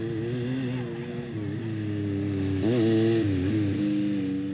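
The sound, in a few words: vehicle engines humming and revving in the desert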